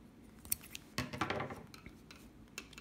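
Scissors snip a crochet yarn tail, giving faint close metallic clicks and a short soft cluster of cutting sounds in a quiet room.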